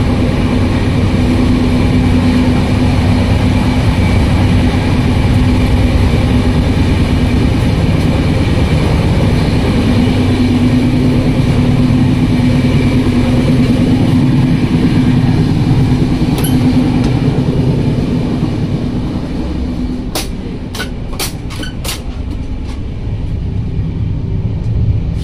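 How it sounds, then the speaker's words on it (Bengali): Another train rushes past on the neighbouring track beside a moving train: a loud, sustained roar and rumble for nearly twenty seconds, then easing off into quieter running noise with a few light clicks. "পাশেও আরেকটা ট্রেন লাইন, যে লাইনের উপর দিয়ে এই মাত্রই পাশ কাটিয়ে আরেকটা ট্রেন পার হয়ে গেল"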